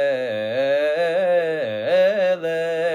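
A shalshelet Torah cantillation, sung as a single sustained solo voice in a wavering chain of rising and falling pitch, with the up-and-down motif repeated three times and no other sound.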